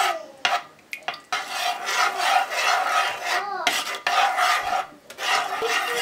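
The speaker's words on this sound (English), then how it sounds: "I'm just going to get that pumpkin stirred into the milk till it's nice and smooth" A spoon scrapes and stirs mashed pumpkin into warm milk in a pot, giving a steady close rasping swish in long strokes with brief pauses between them.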